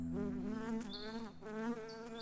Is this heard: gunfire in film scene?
no